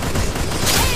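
A bomb explodes in a video game, a dense, loud burst of blast noise that swells through one second and ends with a rush of debris.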